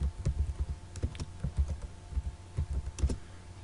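Text typed on a computer keyboard, a quiet run of close, irregular key clicks and taps with short pauses, and no talking.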